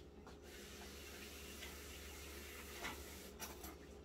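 Tap water runs into a sink as fingers are rinsed, a faint steady hiss and trickle with a few small splashes, no voices.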